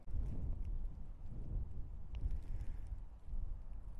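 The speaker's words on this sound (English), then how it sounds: "So it's really windy. Let me show you how windy it is." Heavy wind buffeting a microphone in the Columbia River Gorge, a constant low rumbling roar with gusty surges throughout and no voices.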